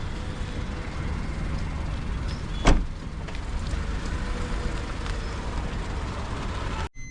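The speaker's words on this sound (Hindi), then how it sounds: "अब मैं गाड़ी चला रहा हूँ फर्स्ट गियर से, आप देख सकते हो।" A car driving slowly in first gear, a steady low engine drone and road rumble heard from inside the cabin, with a brief thump midway and no talking.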